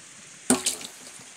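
Water splashes into a fungicide mix for an onion nursery, one short pour-in burst followed by a smaller second splash and a brief trickle, alone and fairly near.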